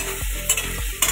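Potatoes frying in a home kitchen pan, a soft sizzle broken up by the scrape of a spatula stirring every half second or so, with no voices.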